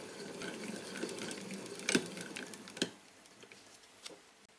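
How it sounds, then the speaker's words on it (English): A vintage 1925 Singer 15K30 hand-crank sewing machine winds a bobbin, giving a soft, quiet whirring with faint ticks and a few louder mechanical clicks, heard up close with no talking. "Slowly start turning the crank to wind the bobbin."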